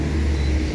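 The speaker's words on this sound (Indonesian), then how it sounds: "Wow, bus tancap gas" A bus at a Sinar Jaya bus terminal throttles up with a steady, loud low engine roar as it pulls away, close by and continuous with no voices.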